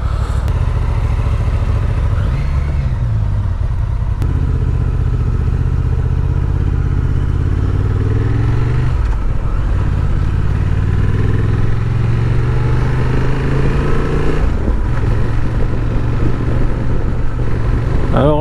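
Honda Transalp 750 motorcycle engine running steadily up close, a continuous low throbbing drone with slight rises and falls in pitch, loud and alone without talk.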